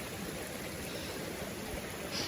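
Steady, hissing rush of flowing water at the third rest post of a mountain trail up Gunung Salak via Pasir Reungit, continuous and fairly close with no talk.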